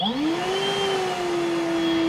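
Milwaukee battery-powered vacuum running steadily, its motor spinning up over the first moment into a smooth, fairly quiet whine that holds level and close, with no one talking.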